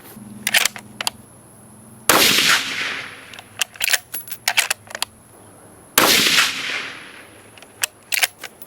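Rifle shots fired at a target group ring out at an outdoor range: two sharp, loud reports spaced about four seconds apart, each with a decaying echo, with scattered clicks and clanks between them.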